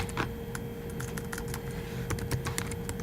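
Someone types a website address on a computer keyboard, giving a quick run of irregular, close key clicks over a faint steady hum, with no voices.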